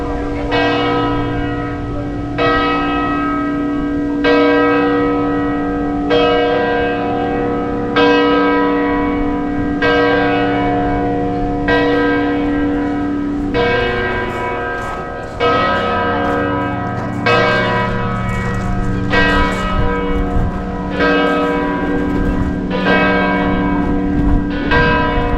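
Church bells at Chartres ringing around the time of Mass, loud and near with repeated strokes every couple of seconds, a rich, sustained, overlapping peal with a little faint talk underneath.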